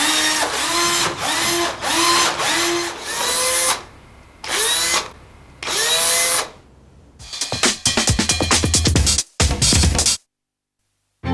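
Power drill whirring in repeated bursts, whining as it spins up and down, first in rhythmic short pulses, then longer runs and rapid stuttering triggers, loud and close.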